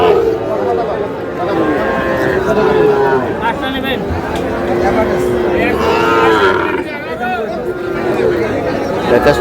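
Cattle, including Sahiwal bulls, low and moo amid a busy livestock market crowd in Comilla, Bangladesh, with steady chatter and voices talking throughout.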